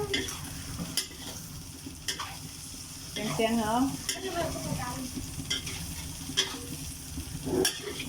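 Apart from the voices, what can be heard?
stir-frying food in a pan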